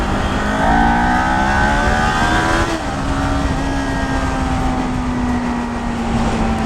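Kawasaki Ninja 400 motorcycle accelerating on the road, engine note rising through the gears with a shift partway, loud and close over steady wind rush, no talking.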